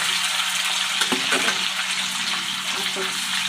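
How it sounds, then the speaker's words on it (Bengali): Paneer pieces lightly frying in hot oil make a loud, steady sizzle and crackle with a few brief pops, close up, with no talking over it. "এবার আমি পনিরগুলো অল্প অল্প করে দিয়ে পনিরগুলো আমি একটু হালকাভাবে ভেজে নেব"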